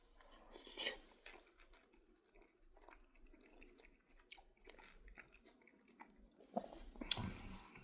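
Quiet, close chewing of a smoky chipotle chicken burrito bowl with extra Cholula hot sauce, soft wet bites with a few louder crunchy moments near the start and end.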